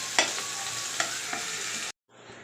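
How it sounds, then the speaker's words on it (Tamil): Onions sauté in oil in a kadai with a steady close sizzle and a few soft stirring scrapes, then the sound cuts off abruptly near the end. "நல்லா வதக்கிக்கலாம்"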